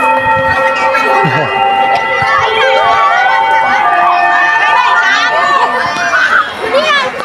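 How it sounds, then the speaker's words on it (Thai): A school bell or buzzer sounds with a steady ringing tone through a noisy schoolyard full of children shouting and running at four o'clock, while someone talks nearby. "ออดดังแล้วครับเมื่อกี้เนี่ย"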